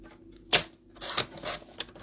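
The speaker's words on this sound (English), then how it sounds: "I'm going to carefully trim this sentiment down." Scissors trim a paper sentiment for a handmade card, several crisp close-up snips and paper rustles in an uneven rhythm, fairly quiet and alone.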